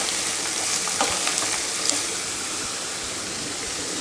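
Shredded cabbage sizzles and fries steadily in a hot pan while being stirred, a continuous close hiss with faint scraping clinks from the spoon, no voices.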